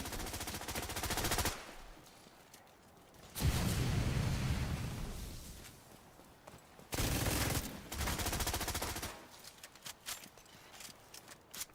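Dense rapid automatic gunfire from a shooter video game, loud and continuous in long bursts separated by brief quieter gaps, with scattered smaller shots and clatter in between.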